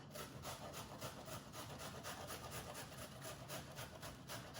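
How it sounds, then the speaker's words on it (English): Yellow cauliflower rubbed firmly against a hand grater, a steady rhythmic scraping that runs without pause, close and fairly loud. "I'm just gonna take my grater and we can grate it."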